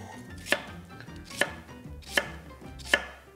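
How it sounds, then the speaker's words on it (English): A knife cutting an onion into strips for Haitian pikliz, four crisp chops landing on a cutting board at steady intervals of under a second, close and clear over a quiet background. "after we get this cut up, we're gonna get it into strips here"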